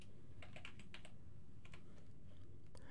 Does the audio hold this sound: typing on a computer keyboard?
yes